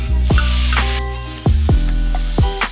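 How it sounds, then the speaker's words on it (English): Tomatoes and pepper hit a pan of sautéed spices in a squash soup, giving a loud, steady close sizzle with a few sharp spoon clanks and stirring knocks over it. "And then we are going to add our tomatoes and the other pepper."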